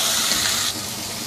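Water gushes into a pot of mutton curry that has been cooked with tomato, crushed red chilli, salt and turmeric. A loud, steady pour runs for most of the moment, then eases off near the end, with no talk.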